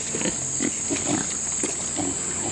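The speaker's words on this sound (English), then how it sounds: "There are heritage breed pigs" Heritage breed pigs on a farm-to-table farm, a series of close, repeated grunts and oinks in quick bursts over a steady background hiss.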